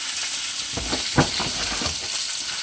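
Fresh spinach sizzles and hisses steadily in a hot frying pan as it wilts, a close, continuous crackle with a few brief louder pops and stirring clatters throughout.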